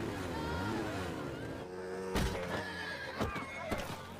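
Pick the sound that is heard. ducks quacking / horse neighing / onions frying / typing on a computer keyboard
horse neighing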